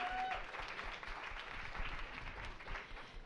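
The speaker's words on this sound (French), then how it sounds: "Main d'applaudissement pour le Bistro Brain" An audience at a talk applauds, a faint, continuous patter of many hands clapping for a few seconds, with a brief whistle near the start.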